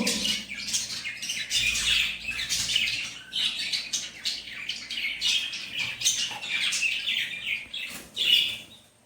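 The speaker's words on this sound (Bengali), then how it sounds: "এই দুখানা পাখি দেখো চোখ ফুটে গেছে" Baby birds in a nest squawk and chirp insistently, near and fairly loud, in repeated bursts of high cheeping that overlap throughout, with no talking.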